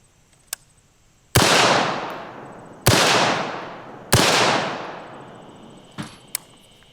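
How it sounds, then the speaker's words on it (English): Three loud, sharp rifle shots fired at a body armor plate outdoors, each with a long decaying echo, spaced about a second and a half apart, with a few faint clicks before and after. "So I'm just gonna shoot at the plate and wherever they go, they go."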